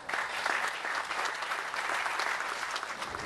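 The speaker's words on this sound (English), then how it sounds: "Let's give these guys a round of applause" Sustained, dense applause from a crowd fills a port commission ribbon cutting, steady and fairly close for a few seconds without speech over it.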